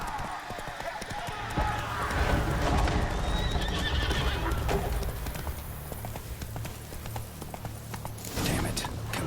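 Roach, the horse from The Witcher 3, gallops with rapid hoofbeats and lets out a loud, close neigh, set against dense game background sound.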